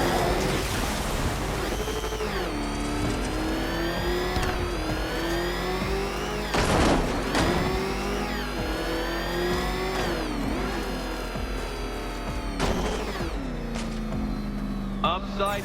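Batmobile engine in Batman: Arkham Knight revving hard, pitch climbing and dropping through repeated gear shifts in a loud continuous roar with sharp accents, close and steady throughout.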